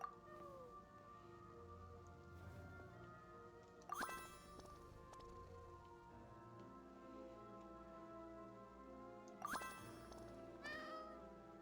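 A cat meowing when petted in a video game: a few short, soft meows over a steady droning game soundtrack, with two sharper bright chiming hits about five seconds apart.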